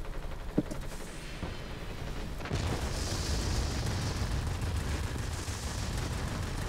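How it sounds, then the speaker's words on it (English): A bomb blast in the World of Warplanes aircraft combat game: a short crack, then a heavy, sustained roar of explosion and rumbling debris that holds steady and loud to the end. "Look at that bomb. That just exploded everything in that area."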